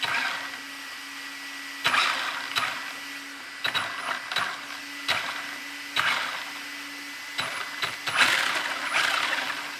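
Greased differential gears of a 124017 RC car spun by the motor, giving a steady mechanical whir with a constant hum and several short bursts of rattly gear noise, close and alone.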